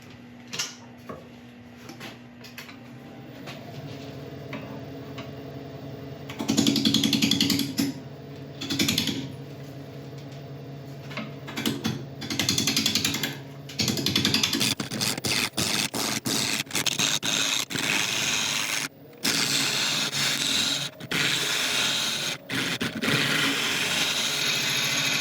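An ancient oak bowl is turned on a lathe with a sharpened bowl gouge, giving repeated scraping and rasping cuts in irregular bursts over a steady machine whir, with no talking.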